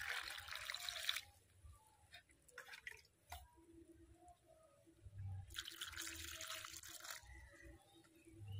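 Fresh green tomatoes are washed by hand in a bowl of water, with soft splashes, drips and trickling in a few bursts separated by quieter pauses.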